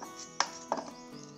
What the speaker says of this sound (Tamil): இப்போ சின்ன சின்ன துண்டாக பூசணிக்காவை நறுக்கிக்கலாம்.